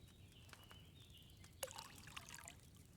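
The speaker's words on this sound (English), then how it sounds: "First, you have to pour the right base into the cauldron." Wine trickling from a pitcher into a cauldron in Kingdom Come Deliverance 2, a faint steady pour with a brief splash partway through, heard alone without talk.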